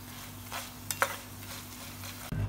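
Crispy fried onions lifted out of hot frying oil, a steady soft sizzle with a couple of sharp clinks of a utensil against the pan and a low thump at the end, close by.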